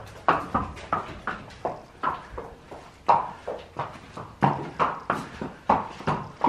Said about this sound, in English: Listening to your horse walk on cement can tell you so much about their health.